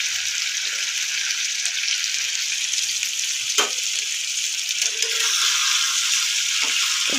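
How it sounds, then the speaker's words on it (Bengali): Potatoes with turmeric and salt sizzle steadily in a hot pan while being stirred, with a few scraping scrapes of the spatula breaking through a continuous close frying hiss. "নেড়ে চেড়ে নিলাম হলুদ দিয়ে"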